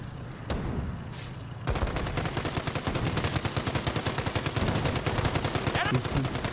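Rapid automatic gunfire rattles in a World War II battle around Cherbourg, steady bursts of machine-gun fire after a couple of single sharp shots, loud and sustained with battle noise behind.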